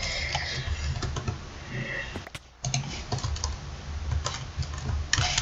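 Game command typed on a computer keyboard, a fast run of close, crisp key clicks with one brief pause partway through.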